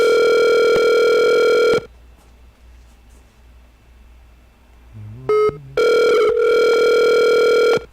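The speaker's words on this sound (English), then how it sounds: "I try to make a phone call and someone tries to call me." A telephone rings loudly and steadily with an incoming call, stops for a few seconds of near silence broken by short electronic beeps, then rings again just as strongly.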